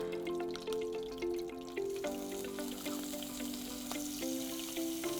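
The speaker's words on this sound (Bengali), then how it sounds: "পেঁয়াজ বাটা দিচ্ছ তেলের ওপরে।" Onion paste frying in hot oil on a cooking show, a soft, continuous sizzle with light crackles and pops, heard alone and fairly quiet with a faint background tone.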